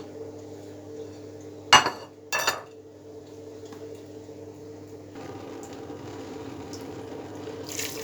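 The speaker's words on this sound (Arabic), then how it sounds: "هنزل عليه بقى بالمية" Water poured over yellow lentils and vegetables in a cooking pot: two sharp metallic clinks of the pot first, then a steady, soft rushing pour that runs to the end.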